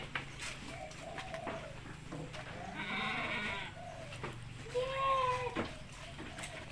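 Etawa (PE) goats bleating in a livestock pen, with several wavering bleats near and far over a low background hum and scattered farmyard noise.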